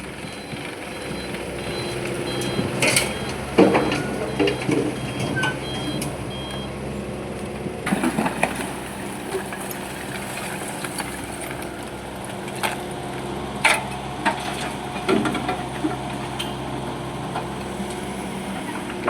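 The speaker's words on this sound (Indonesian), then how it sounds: "Dan datang lagi satu dump truck lagi ya teman-teman." A dump truck rumbles at a riverside construction site, its engine droning steadily at a moderate distance while intermittent clanks and knocks of debris sound throughout.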